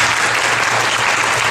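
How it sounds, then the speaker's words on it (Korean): A church congregation applauds to welcome a missionary, dense full applause from many hands, loud and continuous throughout. "이성수 선교사님 나오실 때 우리 박수로 환영하도록 하겠습니다"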